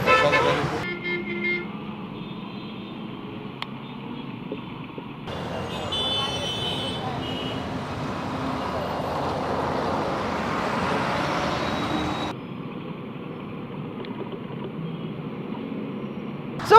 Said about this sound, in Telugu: ట్రాఫిక్ జామ్లు ఇంకా కొనసాగుతూనే ఉన్నాయి